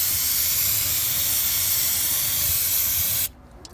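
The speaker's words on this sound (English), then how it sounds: "Now you can get like throttle body cleaner. So basically I just dope it." Aerosol throttle body cleaner sprayed onto a Ford Focus throttle body, a loud, close, steady hiss lasting about three seconds before stopping, followed by quiet.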